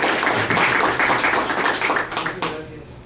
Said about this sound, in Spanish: le damos un fuerte aplauso al doctor Rodrigo Moreno Trujillo